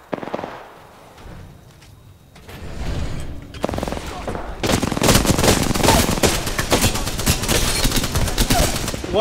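Rapid bursts of video game gunfire crackle loudly and densely through the second half, following quieter scattered noise at the start.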